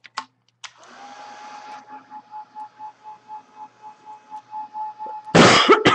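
A hair dryer runs steadily with a pulsing, wavering drone to dry a first coat of paint on an 8 by 10 burlap canvas, preceded by a few clicks and ending in a loud burst of noise.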